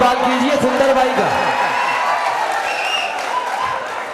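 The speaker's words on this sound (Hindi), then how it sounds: "सुंदर साहब के लिए एक बार तालियों से इस्तकबाल कीजिए सुंदर भाई का" Applause from the crowd at an All India Mushaira in Umarkhed, Maharashtra, welcoming a poet, a loud continuous clatter of hands mixed with a few cheers, with a sustained tonal ring underneath that fades after the first seconds.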